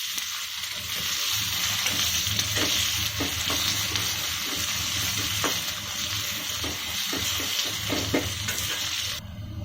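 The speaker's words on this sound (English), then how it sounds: "We have to cook the ginger till it turns to light white color." Ginger fries in a pan for chutney, a constant close sizzle broken by occasional clicks and scrapes of stirring, with no voices.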